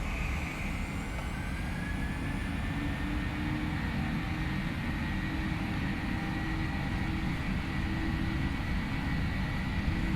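Boeing 737-700 jet engines in a flight simulator spooling up to takeoff thrust on the runway, a steady broadband roar with a rising whine that climbs and then holds level throughout.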